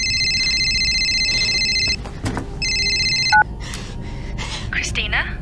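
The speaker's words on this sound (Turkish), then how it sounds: "Cevap versene telefona." Repeating electronic telephone ring in the horror video game I Saw Black Clouds, loud bursts of ringing with a pause between, over a low background rumble and faint breaths.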